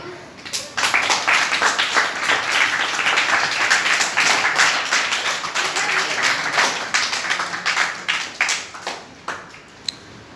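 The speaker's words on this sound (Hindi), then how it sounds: "तालियां बजाओ" Schoolgirls at a government girls' primary school in a Gurugram village clap together in a burst of applause, loud and steady, then thinning into scattered claps toward the end.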